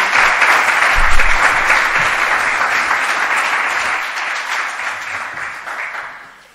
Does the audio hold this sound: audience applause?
yes